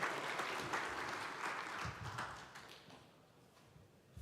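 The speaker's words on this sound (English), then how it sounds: "I'm going to get you guys all clapping here." Applause from a business-conference audience at a family office event, moderately loud clapping that fades steadily toward the end, with no speech over it.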